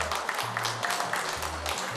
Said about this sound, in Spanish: Un aplauso para ella también.